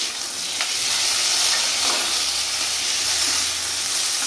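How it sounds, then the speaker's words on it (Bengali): Cumin paste frying in a pan while being stirred, a loud steady steamy hiss with a low scraping rumble underneath, close and continuous. "জিরাটা একটু নাড়াচাড়া করবো"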